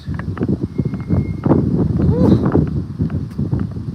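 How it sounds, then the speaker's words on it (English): Strong wind gusts buffet the microphone on an outdoor dog walk, a loud rumbling roar swelling around the midpoint, with a person exhaling and talking over it. "Oh my God, that wind."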